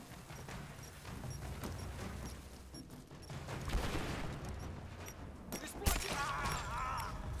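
Gunfire in the video game Rise of the Tomb Raider: scattered shots and bursts crack out over a busy, rumbling game soundscape, with a sharp louder report standing out partway through.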